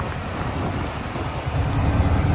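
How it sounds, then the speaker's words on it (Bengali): A Chennai metro train passing nearby, a loud continuous low rumble and rolling roar that swells slightly toward the end, with a faint high squeal. "হ্যাঁ, মেট্রো"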